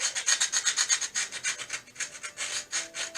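A hand file deburring the metal edge of a Sanou 4-jaw lathe chuck, with steady, rhythmic rasping strokes, close and fairly loud. The rhythm loosens partway through, and no one talks.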